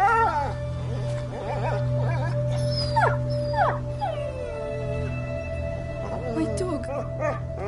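In the video game A Plague Tale: Innocence, a dog whimpers and howls in a string of short, high, wavering cries over a low steady drone, fairly close.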